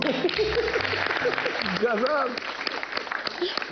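Applause from an audience at a Pariksha Pe Charcha gathering, a steady wash of clapping beneath overlapping voices and chatter throughout.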